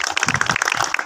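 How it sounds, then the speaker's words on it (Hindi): Applause from an audience at a birthday celebration for former cricket captain Younis Khan in Nazimabad, a dense, steady burst of many hands clapping close by, with no talking. "आप उनके लिए तालियां बजा दीजिए"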